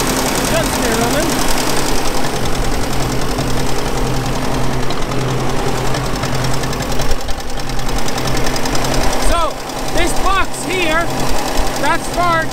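A Ferguson TVO 20 tractor engine runs on tractor vaporizing oil, a steady knocking idle close by, with someone talking over it briefly near the end.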